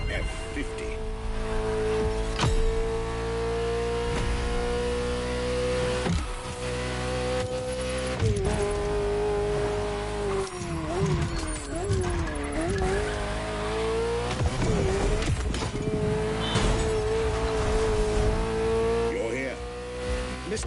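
Ferrari F40 and Ferrari F50 supercar engines at a Motorfest, a sustained engine drone whose pitch wavers and swoops as revs rise and fall, with a voice talking over it.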